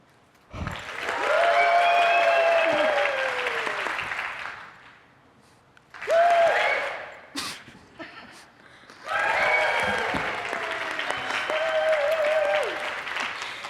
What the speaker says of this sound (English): When I raise the applause sign, you clap and cheer, okay?